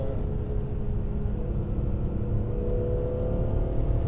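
A 1997 BMW M3 E36 with a 3.2-litre engine and SMG gearbox drones steadily from inside the cabin, with engine hum and road noise holding fairly constant and no clear rev spikes or talk.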